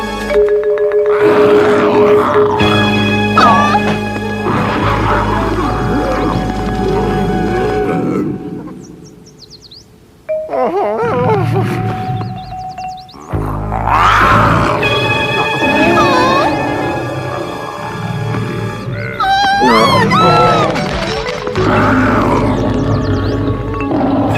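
Cartoon lion in a French-dubbed animated Wizard of Oz episode roars and growls in loud bursts, mixed with music and voices, with a brief quieter gap midway.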